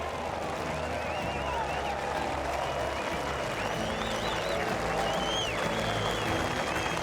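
Spectators at The Open's Champion Golfers' Challenge applaud warmly, a steady dense wash of clapping that holds evenly throughout with a low crowd murmur beneath it.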